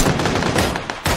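Gunfire in the video game PUBG, a dense burst of rapid shots lasting about a second, loud and close, with no speech over it.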